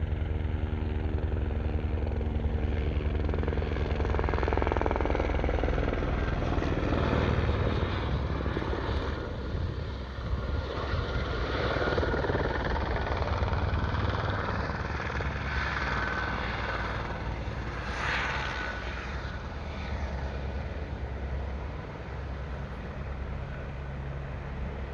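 A helicopter drones overhead with a heavy, throbbing rotor chop and engine whine, loud and sustained, slowly shifting in pitch as it passes over a Scottish mountain area; no speech.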